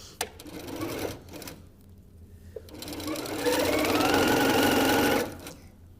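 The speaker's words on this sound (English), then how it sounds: "you can fold it back over and sew down the rest of it" A sewing machine stitches down fabric binding on a picnic bag, with short bursts followed by a long steady loud whirring run, close up.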